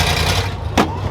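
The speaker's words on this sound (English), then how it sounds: "this thing's idling like perfect" A 1971 crew cab truck engine fitted with Sniper 2 EFI idles steadily, a low even rumble running throughout with a brief louder burst of noise near the end.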